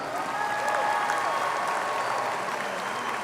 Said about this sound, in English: Let's give all our students another big round of applause